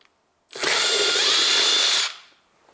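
Power tool spinning a 10 mm socket on Honda Civic 1.8 R18A1 intake manifold bolts, a single loud, close whirring burst lasting about a second and a half, then stopping.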